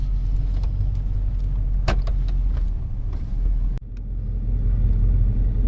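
A 1996 Chevrolet Z71 truck with a swapped 6.0-liter engine gives a continuous low rumble, with a few sharp clicks and knocks and a brief dip midway, and no talking.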